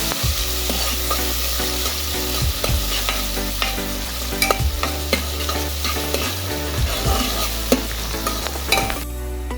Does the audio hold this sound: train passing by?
no